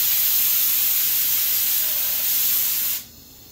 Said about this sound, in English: we have to get a practice spray